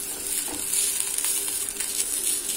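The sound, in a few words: rava dosa sizzling on an iron griddle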